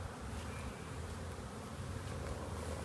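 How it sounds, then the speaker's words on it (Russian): Bees fly about on a mild, green January day, a steady close buzzing drone that holds unbroken throughout. "Пчелки летают."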